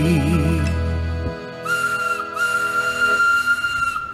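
Steam whistles from an engine at a steam fair sound after a song ends, long steady tones that stop briefly and resume, loud and near, following fading music.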